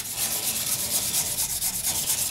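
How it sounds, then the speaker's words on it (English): Steady rhythmic rubbing of a cloth applying sanding sealer to a natural-edge banyan wood vase, a close, even swishing with regular back-and-forth strokes. "So I'm going to be putting some sanding sealer on it,"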